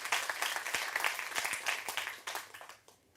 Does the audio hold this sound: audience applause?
yes